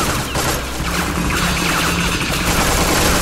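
Rapid, dense gunfire in Tales From The Borderlands, a loud continuous barrage of shots and impacts filling the whole moment without any talking.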